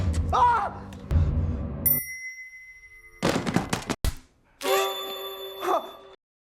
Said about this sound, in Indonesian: Gladys membunyikan lonceng